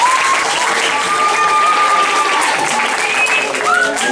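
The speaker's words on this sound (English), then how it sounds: "So give yourselves a rousing round of applause." Applause from Cheder Menachem schoolchildren fills a school hall, a loud, dense and steady round of clapping with some children's voices and whistles mixed in.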